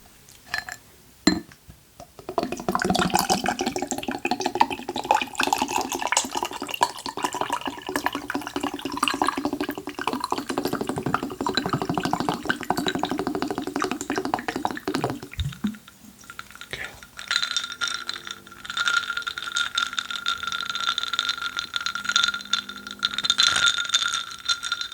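Chilled water with ice poured into a glass, recorded very close in a quiet room: ice cubes rattle and clink against the glass under a continuous trickling pour, with a brief pause and then more pouring.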